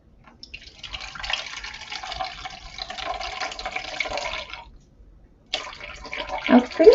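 Water poured from a container into a vessel on a kitchen scale, measured out as the liquid for a coconut oil and salt soap bar; a steady trickling pour lasting several seconds, a brief pause, then a splashier burst of pouring, close and clear.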